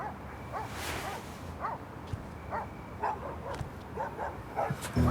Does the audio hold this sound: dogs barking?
yes